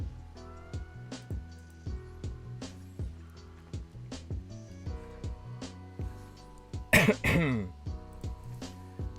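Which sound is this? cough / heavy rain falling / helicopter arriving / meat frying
cough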